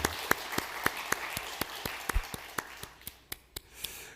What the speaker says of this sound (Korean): 오늘 특별히 애들한테 박수를 좀 보냈으면 좋겠습니다